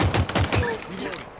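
Rapid bursts of gunfire from a gun in the Halo video game, four quick punchy shots in a row followed by fainter trailing game effects.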